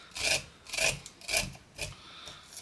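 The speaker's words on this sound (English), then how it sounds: "Go down and scrape that cob to get all that goodness out of there." A knife scraping down a cooked corn cob to strip off the kernels, heard as five or six close, rhythmic rasping strokes, each one short and gritty.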